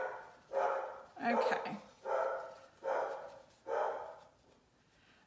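A dog barks indoors five times in a slow even rhythm, each bark loud and close, with a brief spoken word among them.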